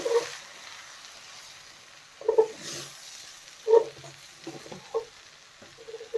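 Turkey berry stir-fry being stirred in a pan over a low flame, soft sizzling underneath a handful of scattered spoon scrapes and clinks that come in short bursts against a quiet background.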